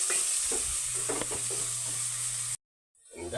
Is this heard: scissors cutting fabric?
no